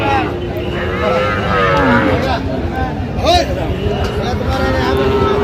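Sahiwal cattle at a livestock market low and moo in drawn-out calls over a steady hubbub of crowd chatter and nearby voices.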